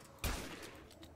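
Gunfire in the video game Dark Matter: one sharp, booming shot stands out, followed by a couple of fainter pops. The whole passage is quiet and low in level.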